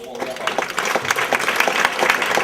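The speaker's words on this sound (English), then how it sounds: "let's give Bill Mooney and the County Association a great round of applause for all" An audience at a county association breakfast applauds, a dense, steady patter of many hands that carries on for the whole stretch with no voice over it.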